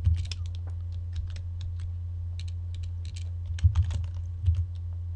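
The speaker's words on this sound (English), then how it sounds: "So let's go ahead and type that in." Fingers tap out a citation on a computer keyboard, the keystrokes coming as sparse, irregular clicks in short bursts over a low, steady background hum.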